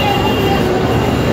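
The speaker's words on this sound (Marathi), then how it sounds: "लोकल ट्रेन येत आहे" A Mumbai local train arrives at a station with a loud, continuous close rumble of wheels and carriages and a faint steady squeal above it, with no voices.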